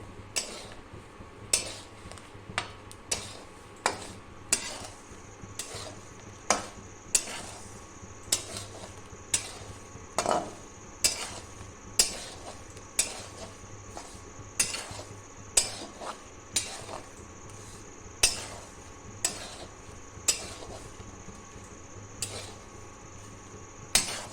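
Coarse salt being dry-roasted in a pan for pani puri, stirred steadily with a metal utensil, giving regular scraping, clinking strikes roughly every second over a faint background hum, with no talking.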